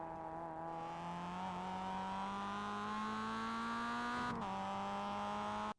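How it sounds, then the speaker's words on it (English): A Mazda MX-5 race car on the Tsukuba circuit in iRacing accelerates out of a turn, its engine tone rising steadily and close, with a brief dip near the end before the note climbs again. "try to be early on the throttle and slowly engage it while you accelerate out of the turn"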